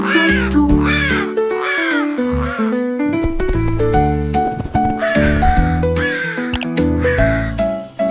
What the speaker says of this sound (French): Un chant de corbeaux tout autour.